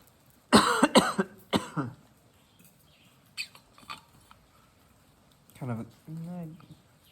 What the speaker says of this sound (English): that feeling from that tickle itch, the coughing, just comes out of nowhere, resurfaces